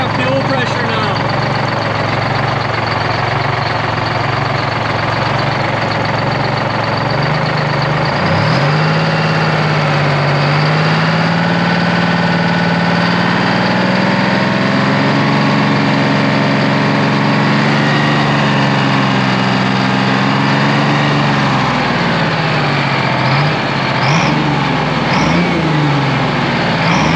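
A 12V71 Detroit Diesel in a 1973 Peterbilt 352 cabover idles steadily, a loud, even low rumble that runs throughout, with faint voices now and then.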